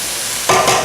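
Tomato paste being stirred into a sizzling empanada filling in a hot pan, a steady fry hiss joined by close, loud scraping stirs in two quick strokes.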